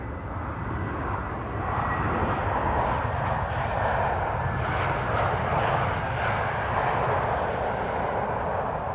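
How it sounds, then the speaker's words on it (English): A KLM Boeing 777-300 lands at Amsterdam Schiphol on arrival from Lima, its engines giving a loud, sustained roar that swells slightly midway and holds steady to the end. "So this is KLM Flight 744, 777-300 arriving from Lima in Peru."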